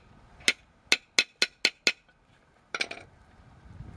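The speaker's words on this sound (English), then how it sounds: "and then put it the other way around, and then just hammer it back in" Hammer blows drive a drum brake part from a 2003-2008 Toyota Corolla or Matrix back into place, six sharp metallic taps in quick succession, then a short pause and a cluster of lighter clinks, close and moderately loud.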